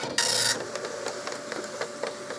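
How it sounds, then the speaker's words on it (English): An Okidata Microline 184 Turbo 9-pin dot matrix printer prints at moderate volume, a bright rasping burst at the start followed by a steady run of faint buzzing head strokes and ticks. "It's not a very loud printer."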